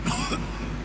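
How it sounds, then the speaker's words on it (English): A single short, harsh cough from a man with injured ribs in the Mafia II video game, close and clear, with one rough burst followed by a fading breathy tail. "Every time I cough, it feels like I'm being stabbed in the chest."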